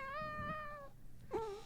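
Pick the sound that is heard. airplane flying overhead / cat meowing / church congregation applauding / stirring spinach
cat meowing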